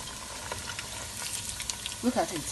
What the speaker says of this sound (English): So we are browning the meat